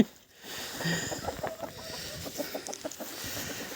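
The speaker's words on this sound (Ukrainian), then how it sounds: "Кури." Chickens clucking and murmuring steadily close by, a busy flock with soft overlapping calls against a rustling outdoor background.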